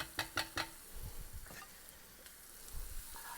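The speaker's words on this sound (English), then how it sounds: "And we're just going to saute that" Onion and garlic sautéing in a pan for shrimp and grits, opening with three quick utensil taps, then a soft, low sizzle with light stirring scrapes, fairly faint and close.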